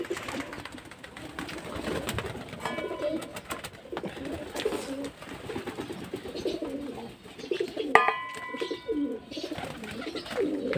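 Domestic pigeons coo steadily and close by, layered soft throaty calls with a few brighter chirps, continuing throughout with no talking.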